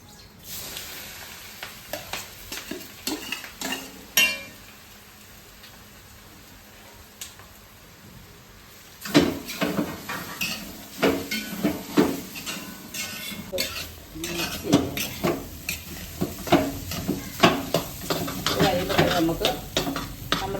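A spice mixture goes into hot oil with popped mustard seeds: sparse light clicks give way halfway through to a loud burst of sizzling, with a spoon scraping and clanking against the pan as it is stirred.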